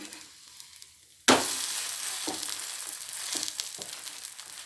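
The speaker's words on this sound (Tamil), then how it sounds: "நல்லா பொரியட்டும் ஒரு பக்கம் பொரிஞ்சிருக்கும் பெரட்டிடலாம்" Bottle gourd adai fries in a pan with oil drizzled around it. A quiet start gives way to a sudden loud sizzle, which settles into a steady, close crackling fry with occasional sharp pops.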